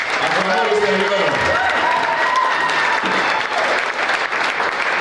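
A church congregation at a Sunday worship service applauds with loud, sustained clapping throughout, while voices and a few sung tones carry beneath it.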